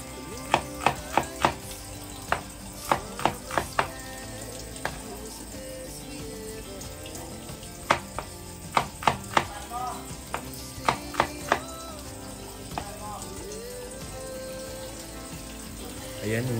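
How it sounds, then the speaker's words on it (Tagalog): A knife slices through onion and ginger on a board in a rural kitchen, producing sharp, close chopping taps in uneven bursts, some rapid and clustered, separated by pauses, with faint background kitchen sounds. "Ayan, in-slice natin yung sibuyas mga kalingap."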